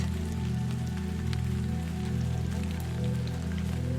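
Steady rain falling on a surface, a soft, even patter with a low rumble underneath, continuous and unbroken throughout.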